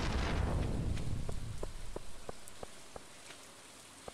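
Rain in Stardew Valley, a soft steady hiss of rainfall with scattered distinct droplet taps, fairly quiet and alone.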